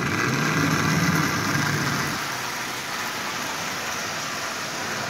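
A Marx 490 toy train locomotive assembled from junk parts running around its track, a steady whirring motor hum with light clattering wheels, close and continuous, easing slightly after the first two seconds; no voices.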